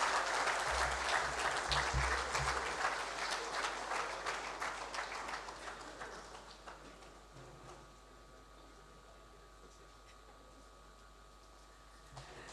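Audience applause at a bank's international trade seminar, a full room clapping steadily and strongly at first, then thinning and fading out over several seconds into a quiet hall with low background hum.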